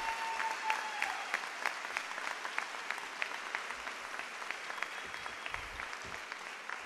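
An audience at a district convocation gives steady, sustained applause for employees, a broad wash of many hands clapping at a moderate distance with no talk over it.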